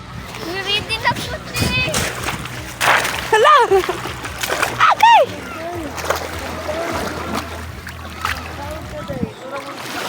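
Sea water splashes and sloshes in bursts as people bathe, while children and adults talk and shout nearby.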